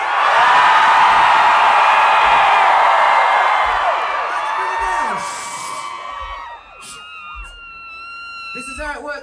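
A large crowd at a concert in Ipswich screams loudly together in a sustained, piercing roar that slowly fades. Scattered shouts and whoops follow as it dies down.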